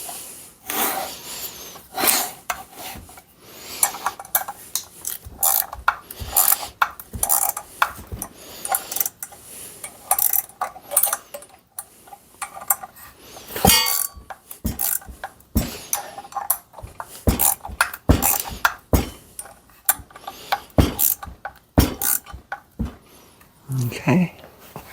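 A ratchet tightens a new rubber ring onto an engine harmonic balancer during a repair, making repeated bursts of close, sharp clicking and scraping with brief pauses between strokes.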